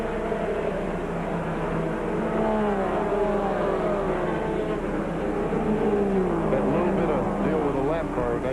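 Stock car engines at the 1992 Nazareth Pontiac Pacesetters 200 drone steadily, with pitch sweeping up and down as cars pass, heard under a commentator talking.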